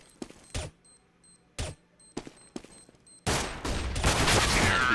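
Rapid gunfire during a competitive Counter-Strike esports pistol round: a few short bursts of shots, then a sustained loud volley of overlapping fire near the end.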